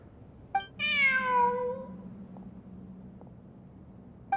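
A cat in Genshin Impact gives a single clear, drawn-out meow with a falling pitch, close and distinct over quiet background hum, followed by faint short chirps.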